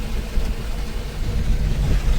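A vehicle travels along a highway near Kurnool in Andhra Pradesh, giving a steady loud rumble of engine and road noise from inside, with no talk over it.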